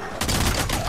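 Gunfire in the video game Days Gone sounds as a rapid, dense burst of shots over one second, loud and close.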